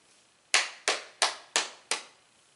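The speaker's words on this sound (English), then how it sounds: "you can clap," Five sharp hand claps in a steady, even rhythm, close and crisp, with silence between them.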